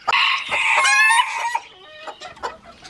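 A broody hen squawks and clucks loudly at close range in a farm pen, a harsh drawn-out protest followed by shorter, rougher clucks.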